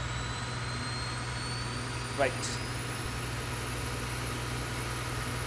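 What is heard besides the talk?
Boeing 737-8 APU spooling up, from X-Plane 11 video game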